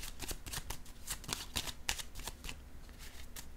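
Tarot cards are shuffled up close in a quiet room: a soft, rapid patter of riffling card edges, quiet and continuous with brief stronger flicks throughout, and no voices.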